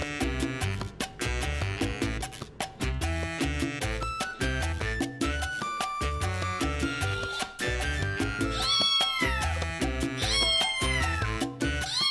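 A cat meows several times, with rising and falling cries near the end, mixed in with busy background music that plays loudly throughout.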